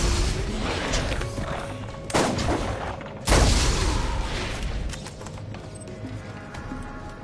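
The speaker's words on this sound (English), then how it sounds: "This is my favorite sniper in the whole game." Sniper rifle shots in Borderlands 1: two heavy, booming reports a little over a second apart, each loud and close, over a low game ambience.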